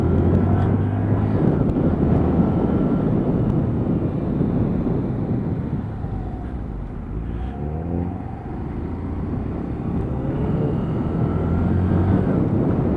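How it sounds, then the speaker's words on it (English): Engine rumble from a Lexmoto Assault E5 125cc motorcycle while riding, a steady low throaty drone with wind noise over the microphone, shifting slightly as the rider works down through the gears, loud and continuous throughout. "throaty 125 rumble from it, so it does sound particularly good when you obviously start coming down through the gearbox"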